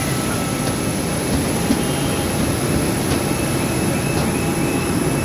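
A large propeller airplane, boarded on the ground by a group of children, gives off a steady, loud engine roar that stays constant throughout without any voices over it.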